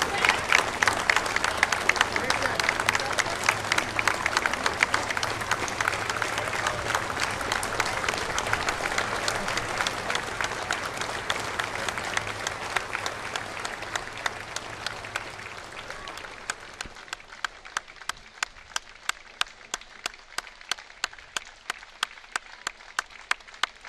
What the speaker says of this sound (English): now they're actually applauding these veterans as they go by